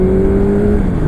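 A 1984 Honda CB750 Nighthawk S motorcycle engine drones loudly and steadily close by, a sustained mechanical hum with a slight rise as it accelerates up toward highway speed, with wind noise and no speech.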